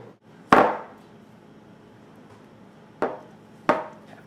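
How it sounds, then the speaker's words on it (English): A knife working around the edge of a frozen watermelon dessert gives three sharp, close knocks with short ringing tails, the first alone and the other two close together after a long pause, with no talking. "We're just going to take a knife and go around the edge of it."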